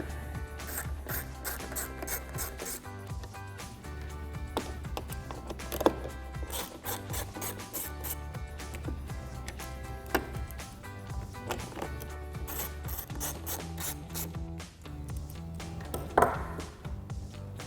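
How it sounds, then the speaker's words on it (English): A T20 Torx bit on a ratcheting driver backs out the fog light screws on a Jeep Gladiator, with repeated quick clicking ratchet passes and scraping turns, close and fairly quiet, and no talking. "We'll grab a T20 Torx bit to take these out."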